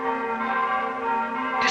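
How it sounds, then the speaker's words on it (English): Church bells ringing across a city in the film Mothra give a steady, resonant tolling with rich sustained overtones, loud and continuous throughout, with nothing else over them. "I want every church bell in the city to start ringing at 3 o'clock precisely."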